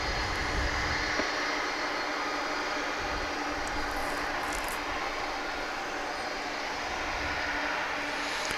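A UPS cargo aircraft on the runway at Dallas-Fort Worth roars with a broad, steady engine rumble and hiss that holds for the whole stretch, fairly loud and unbroken.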